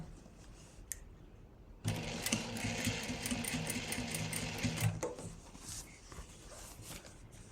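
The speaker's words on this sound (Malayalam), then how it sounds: "ഈ തുണിയുടെ മുകളിൽ ഒരു സ്റ്റിച്ച് അങ്ങ് ഇട്ട് കൊടുക്കുക" Close sewing machine stitching across the fabric of a pair of pants, a dense steady mechanical whir of about three seconds framed by quieter handling noise.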